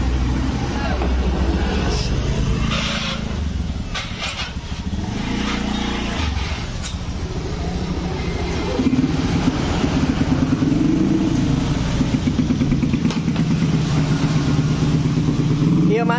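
A 2018 Honda Scoopy scooter ridden fast on a road, its engine droning and rising loudly and continuously with wind and road noise, with a voice speaking over it at times.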